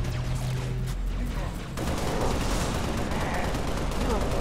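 Gunfire in the video game Halo: Reach, a dense, continuous burst of rapid shots and impacts that fills the whole stretch loudly, with a brief quieter dip before the firing intensifies.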